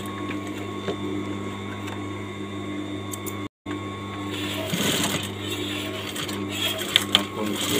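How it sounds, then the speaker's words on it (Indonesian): Sewing machine stitching a fabric pocket, a steady mechanical hum running through the whole stretch, broken by a short stop partway, with a busier rattling burst afterwards. "Baru setelah kita jahit, kita jelujur."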